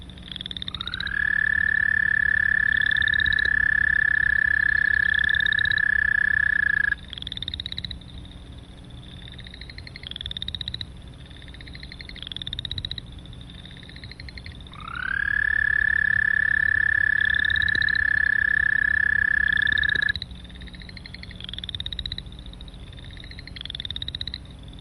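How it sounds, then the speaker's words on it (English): An American toad gives two long, steady trills, each lasting several seconds, loud and clear, with softer chirping calls from other frogs filling the gaps between them. "Let's listen to the American toad."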